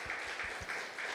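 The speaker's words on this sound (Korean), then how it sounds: "우리 수고한 우리 간사님과 찬양팀을 위해서 한번 박수 한번 해주셨으면 좋겠습니다" A church congregation at a Friday praise and prayer meeting applauds the worship team, a short burst of steady, fairly soft clapping filling the room.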